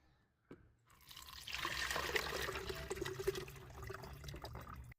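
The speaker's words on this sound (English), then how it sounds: "Now, strain the liquid." Soaked homemade plant fertilizer liquid strained into a container, a short clunk followed by a steady close trickle and splash of pouring water, no talking.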